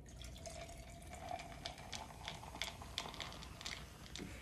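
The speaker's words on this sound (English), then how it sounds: "go ahead and top this off with cream soda" Cream soda poured over ice in a mason jar, a soft steady fizzing pour with scattered crackling pops and clinks of ice, quiet and close, no talk.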